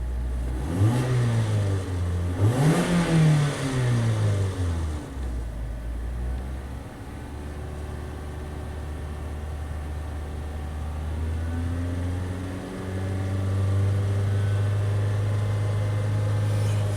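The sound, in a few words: Mazda engine revving with throttle then idling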